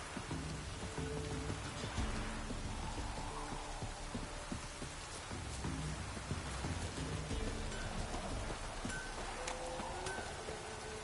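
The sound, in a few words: light drizzle rain in The Witcher 3 video game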